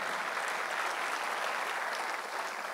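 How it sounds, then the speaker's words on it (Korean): A church congregation clapping in thanks to God during a Korean service, an even, sustained patter of many hands at moderate distance with no speech over it. "하나님께 감사의 박수를 치며 영광을 돌리겠습니다."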